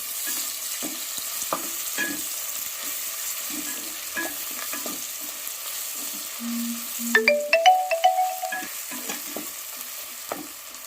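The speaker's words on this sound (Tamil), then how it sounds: "நம்ம வந்து இடித்து வச்சுருக்கிற இந்த இஞ்சி பூண்டு பேஸ்ட்டு சேர்த்துக்கலாம். இதை நல்லா வதக்கிக்கலாம்." Ginger garlic paste frying with onions in a pan for mutton biryani, a steady sizzle with scraping stir strokes throughout, plus a brief beeping ringtone-like chime in the middle, no talking.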